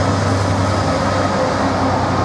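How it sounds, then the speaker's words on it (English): An intermodal freight train hauled by class 66 locomotive 66772 rolls through Ely station, a steady, loud broadband rumble with a low engine drone that holds evenly throughout, with no voices. "intermodal service 4 Mike 29 from Fearstone North Terminal to Birch Coppice"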